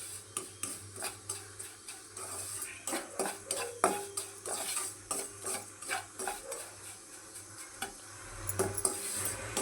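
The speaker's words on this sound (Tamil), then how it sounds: "கொஞ்சம் சிம்மிலே இருந்து நல்லா வறுத்து எடுத்துக்கலாம்." Moong dal for kesari being stirred and dry-roasted in a pan over a low flame, with repeated scraping and clinking strokes of a spoon against metal in a steady rhythm, close and fairly quiet.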